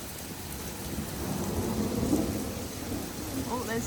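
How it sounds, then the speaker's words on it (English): Thunder rolls low and steady during a rainy, foggy evening in Sydney, swelling in the middle and then easing back under a constant wash of rain. "Oh, there's the thunder."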